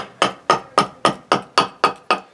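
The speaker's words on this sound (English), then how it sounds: "just very gently, no pressure at all, just using the weight of the axe head, like so" An axe head taps gently on a hollowed eucalyptus wood bowl, striking eight evenly spaced times with crisp, close knocks that ring briefly and decay before the next one.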